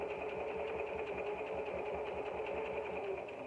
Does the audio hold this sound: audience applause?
no